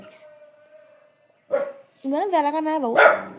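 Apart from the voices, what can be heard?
dog barking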